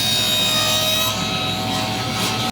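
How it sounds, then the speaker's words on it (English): A table saw with a crosscut sled cuts wooden triangles, a loud, steady whining hum with a grinding rasp underneath, close by, ending abruptly. "to cut these triangles out is to use my crosscut sled on the table saw"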